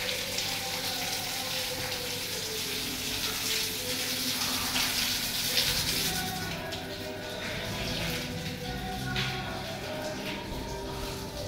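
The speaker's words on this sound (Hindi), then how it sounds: "लो जी पानी पा देते हैं पैडिंग के ऊपर।" Water runs from a hose onto padding on a rooftop, a continuous hissing gush with a splashing texture that holds steady and fairly faint, shifting tone midway as the flow lands differently.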